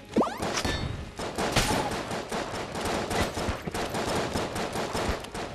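Gunfire from a weapon in the video game Enter the Gungeon rattles in a dense, continuous volley of rapid shots, loud and steady from start to finish with no talking.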